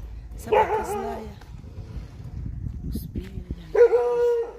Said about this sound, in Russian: Собака злая.